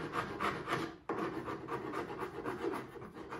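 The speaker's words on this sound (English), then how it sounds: "I'm just gonna be using a wood file and smoothing out these areas that we made the cork putty" A wood file rasps over cork putty smoothing areas on a carved wooden drake can gunner decoy, giving close, continuous scraping strokes in a steady rhythm with one brief pause.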